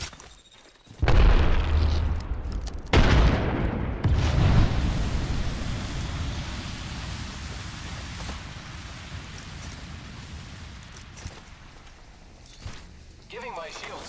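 A grenade going off in Apex Legends on Kings Canyon, several heavy booming blasts in the first seconds followed by a long rumbling wash of debris-like noise that slowly fades.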